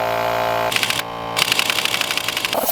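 A power impact wrench with a 19mm socket removing a bolt during clutch work: a short steady hum, then loud rattling hammering bursts with a brief pause in between.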